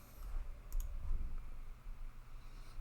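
A computer mouse gives a few faint, quick clicks against a quiet background hum.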